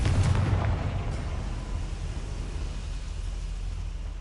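In the video game Hogwarts Legacy, a Confringo fire spell bursts with a heavy, low explosive boom at the start that trails into a sustained rumbling roar.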